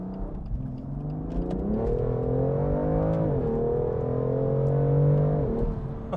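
A 2020 BMW M2 CS accelerating hard, its engine note climbing in rising harmonics through gears with a brief dip at a shift, moderately loud and alone without talk.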